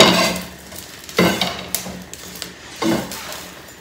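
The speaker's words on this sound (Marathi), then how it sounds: "मिरच्या ना आधी अशा भाजून घेते पूर्ण आणि लसूण टाकलेलं आहे त्याच्यामध्ये" Green chillies and garlic sizzling in a hot pan for a Maharashtrian thecha, a loud steady hiss broken by several louder stirring scrapes, close up with no talking.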